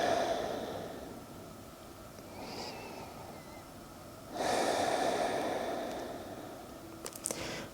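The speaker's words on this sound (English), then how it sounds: "Just a big breath here." A deep breath during a seated yoga twist, heard as a soft drawn-in inhale followed by a louder, longer breathy exhale, close to the microphone with no talking.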